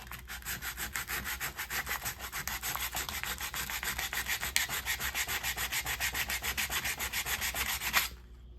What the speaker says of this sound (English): You can take the sandpaper and actually go over it.